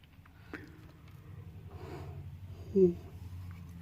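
A person yawns close by, a soft breathy inhale that swells and ends in a short voiced groan, over a quiet room hum.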